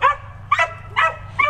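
A dog barks four times in quick, evenly spaced bursts, fairly close and loud, over a low steady hum.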